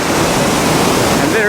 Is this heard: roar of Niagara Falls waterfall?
yes